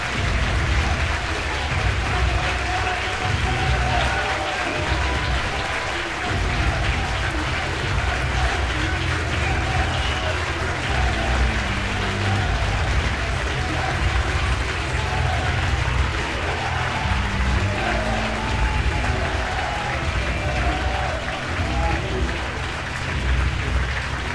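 A large audience gives sustained, steady applause welcoming President Javier Milei as the 2025 Röpke Prize winner, a dense, continuous wash of clapping and crowd noise lasting throughout.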